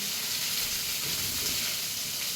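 Chilies frying with salt and black cumin in hot oil, a steady, dense close sizzle that holds evenly throughout with no break.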